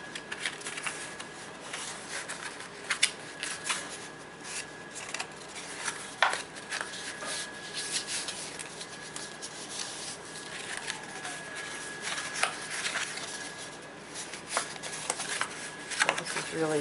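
Paper being folded and creased by hand, repeated crisp rubbing, crinkling and sharp creasing strokes close by, steady throughout with brief louder snaps, under a person talking.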